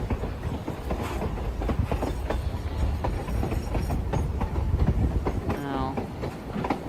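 A real train passes close by, loud rolling rumble with rhythmic clickety-clack of wheels over rail joints and occasional faint squeal, continuous throughout with no talking.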